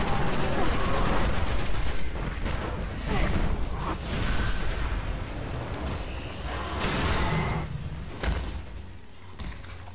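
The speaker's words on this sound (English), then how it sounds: "That's a rocket." A rocket fires amid heavy combat in the video game Destiny, with bursts of gunfire, whooshes and blasts layered densely together, fairly close and continuous, with a voice talking over the action.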